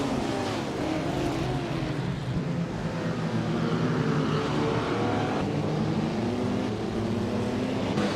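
Race cars launch from the start in a racing game, among them a classic 1957 Ferrari 250 Testa Rossa: a steady, loud, layered engine drone of several cars revving and pulling away together, with no voice heard.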